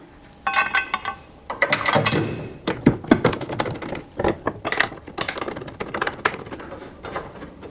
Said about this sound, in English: We're going to take the new crossmember bolts and we're just going to thread them up into the frame rails.